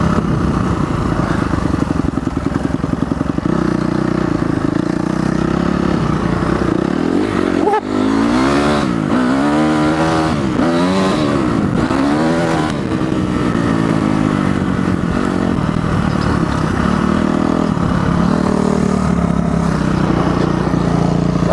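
A motorcycle with fireworks attached to it rides past, its engine droning steadily and revving in rising and falling sweeps midway through; no firework bangs stand out.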